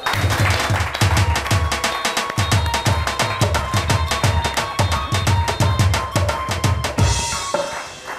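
A studio audience at a weekend TV show claps loudly and continuously, with a dense, steady wash of applause and a beating music track running underneath.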